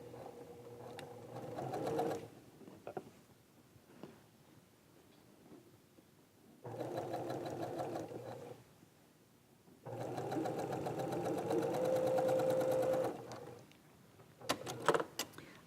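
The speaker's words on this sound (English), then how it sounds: "we'll stitch this down at 1/4 of an inch seam allowance" A sewing machine runs in bursts of steady stitching while sewing a quarter-inch seam across fabric, close and fairly quiet, with short pauses between runs.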